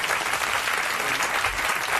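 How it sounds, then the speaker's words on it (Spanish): Studio audience applause on a 1984 Spanish TV game show, a steady dense wash of clapping from a crowd, loud and continuous throughout without a break. "Aunque, sí, un aplauso,"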